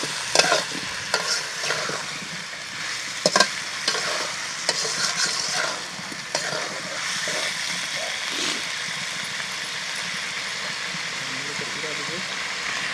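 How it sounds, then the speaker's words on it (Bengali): Sweet potato stir-fried in oil in a pan, a steady sizzle and frying hiss with occasional scraping stirs, continuous throughout while a person talks over it. "এবার একটু পরিমাণ মতো তেল দিয়ে দিলাম আরও উপর থেকে কষা কষা মাচালো রান্না হবে"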